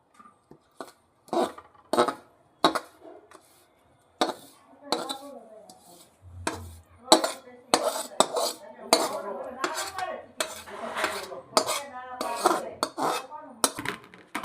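Cooked sesame and sugar mixture for chikki is scraped from a pan onto an oiled metal plate, bursts of sharp metallic scraping and clinks in uneven strokes, close, with a pause and some talk between.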